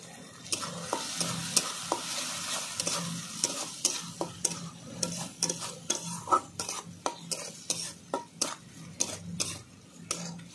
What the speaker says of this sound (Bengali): মশলাটা আমি ভালো করে 2 মিনিট কষিয়ে নেব একসঙ্গে